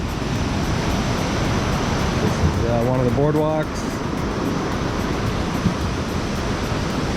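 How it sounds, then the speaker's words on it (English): Ocean waves break on the surf beach at Surf City, El Salvador, a steady loud roar of surf with a brief spoken remark partway through. "And the waves are rocking"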